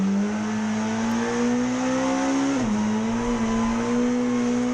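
A 1990s British Touring Car Championship race car with a slipping clutch holds a loud, steady engine drone whose pitch dips briefly midway and then climbs back, sustained throughout without a clear gear change.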